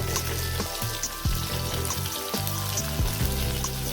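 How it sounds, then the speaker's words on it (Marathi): Tempering spices for masoor dal crackle and sizzle in hot oil, a steady frying hiss with occasional pops, while a low electrical hum runs underneath. "एकदा फोडणी हलवून घ्या"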